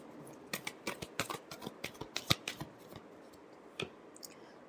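Tarot cards shuffled by hand, a quick run of crisp riffling slaps in an uneven rhythm with one last flick after a brief pause, close and fairly quiet, no speech.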